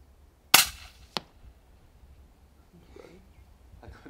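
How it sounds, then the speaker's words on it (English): A single sharp rifle shot is fired at a dassie 82 meters away on a cliff on a farm, followed a moment later by a faint distant impact crack, then quiet outdoor ambience and soft voices. "So that was an 82 meter shot"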